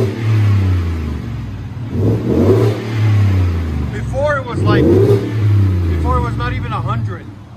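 A car with a Borla muffler exhaust revs repeatedly, producing deep, throaty rising and falling blasts at close range, while people talk over it.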